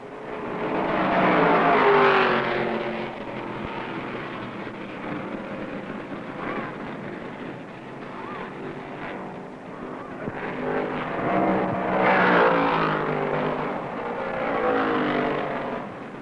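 Roaring 1969 NASCAR Grand National stock cars racing on track, Fords and Dodges swelling loud as they pass and fading between, a continuous engine drone heard from trackside.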